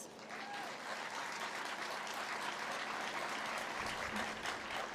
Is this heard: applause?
yes